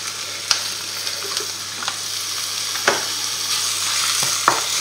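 Minced meat sizzles loudly in a hot pan for an eggplant lasagna, a constant crackling fry broken by sharp clacks and scrapes of stirring.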